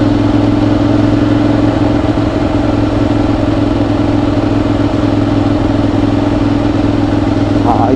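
Motorcycle cruising steadily at about 30-40 km/h along a summer coastal road on Notojima, with a constant engine drone and wind rush held at an even level throughout.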